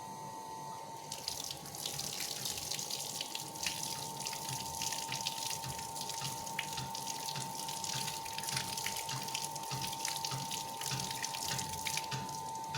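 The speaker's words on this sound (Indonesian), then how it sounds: "kemudian kita bilas menggunakan air yang mengalir dan bersih" A tap runs steadily into a sink while hands are rinsed under clean running water, a close, continuous splashing hiss with a faint tonal hum underneath and no talking.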